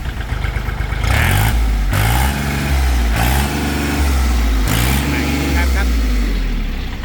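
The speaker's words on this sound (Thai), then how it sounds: "อ่ะอันนี้สตาร์ทเลยลูก" A used farm tractor with front equipment and a rotary tiller starts up and runs: a loud, close diesel engine that surges through several revs, with someone talking over it.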